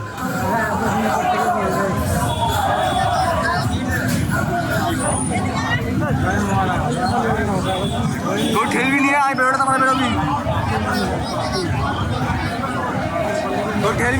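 Dense hubbub of a large pilgrim crowd at Sheoraphuli railway station during the Tarakeswar Yatra, overlapping voices and chatter forming a steady, loud wash of noise throughout, with no single voice standing out.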